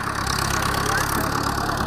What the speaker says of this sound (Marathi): ट्रॅक्टर या ठिकाणी जो आहे तो चालू आहे.